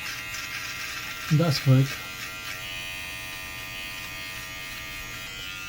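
A Brightup rechargeable beard trimmer runs against a face with a steady, close electric buzz throughout, while someone speaks briefly over it near the start.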